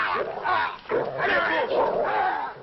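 A dog whines and barks in short bursts, close by, with a voice speaking over parts of it.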